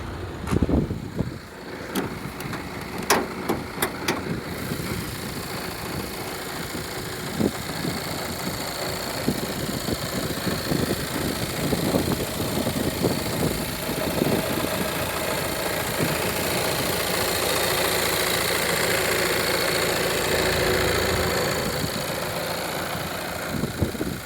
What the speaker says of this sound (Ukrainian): Давайте відкриємо, послухаємо, що в нас під капотом.